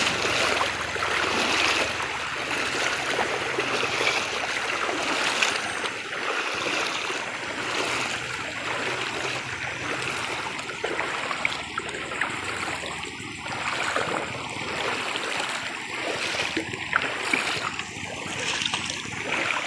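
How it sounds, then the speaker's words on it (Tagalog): Continuous rushing water flows steadily, a broad hiss with faint bubbling and gurgles, no voices. "Ito kasi yung ilog na ito."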